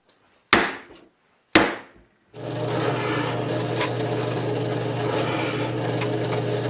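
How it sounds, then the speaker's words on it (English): Two sharp, ringing hammer blows driving a pin into wood, evenly spaced, followed by a steady mechanical hum of a running machine. "I have to put it in with a hammer"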